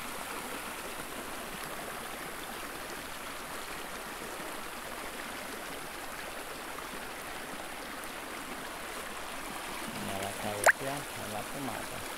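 Water from a natural spring runs in a steady, soft, continuous flow, fairly close, with a faint thump near the end and no clear talk over it.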